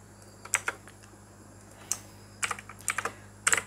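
Code typed manually on a computer keyboard, short bursts of close key clicks separated by brief pauses, quiet and without talk.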